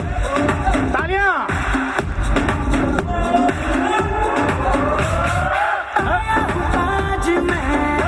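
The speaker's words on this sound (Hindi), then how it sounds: "तालियां।" At a sangeet ceremony the crowd cheers and whoops, with rising yelled voices and loud overlapping shouts, busy and close throughout.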